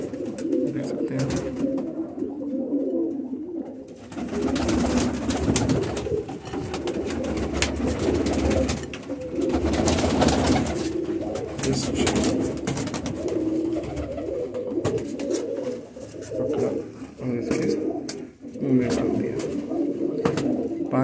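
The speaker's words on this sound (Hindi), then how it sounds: "कबूतर भी दिखा देते हैं आपको" Pigeons coo in soft, low, repeated calls throughout, with someone talking over them nearly the whole time.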